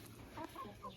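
A broody hen with chicks clucks softly a few times in quick succession, close by, with quiet farmyard background.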